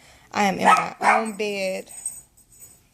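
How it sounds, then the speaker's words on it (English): A dog barks a few times close by in a quiet bedroom, short loud bursts overlapping a person speaking, then trailing off into near silence. "Stop making the dog bark."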